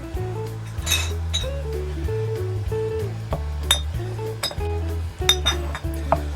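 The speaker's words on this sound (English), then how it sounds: "We use our jam tongs to take the hot jars out of the oven." Hot glass jam jars lifted out of an oven with metal jam tongs, a series of close clinks and glassy knocks at irregular intervals over a low steady hum.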